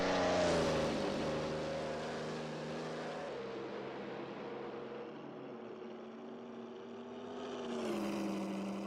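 Number 85 Grand Prix race car from 1934 at the Spanish Grand Prix, its engine roaring loud, easing into a lower drone as it moves off, then rising again near the end, with no voices.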